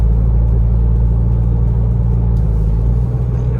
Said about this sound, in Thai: เสียงเครื่อง